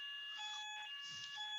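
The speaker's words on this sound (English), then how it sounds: "we've got a fire alarm going off" Fire alarm sounding indoors, several high steady electronic tones held together with slight pulsing, fairly faint and continuous, no talk over it.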